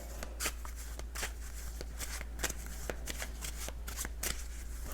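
Playing cards are shuffled repeatedly, crisp riffling bursts in an uneven rhythm over a low steady hum.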